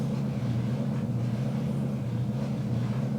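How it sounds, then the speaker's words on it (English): The engine of an Alco S2 switcher model locomotive on a layout runs as a steady, low droning rumble that holds at an even level throughout, with no voices over it. "I hear the engine cycling in and out"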